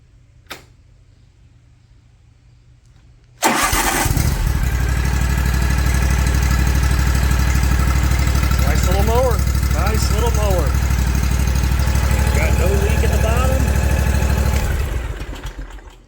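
After a faint click, a Hustler Raptor 42-inch lawn mower engine bursts into life and runs at a loud, steady drone for several seconds before cutting off.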